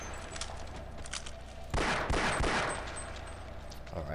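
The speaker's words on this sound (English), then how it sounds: "Trusty pistol." Pistol fire in the video game Half-Life: a short burst of several sharp shots close together, rising out of a quiet background hum, with no talking.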